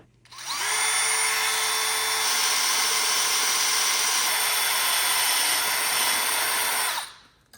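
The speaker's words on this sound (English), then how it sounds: "I drilled holes in the 2 aluminum angle strips" Power drill boring holes in aluminum angle strips for plastic shower wall assembly, a loud steady high-pitched whine running about six seconds, spinning up and winding down at the ends.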